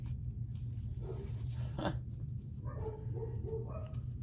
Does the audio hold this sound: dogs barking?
yes